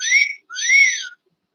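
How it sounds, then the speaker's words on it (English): Two clear, bright whistle notes in quick succession, the second longer and sliding, then silence. "It's a whistle."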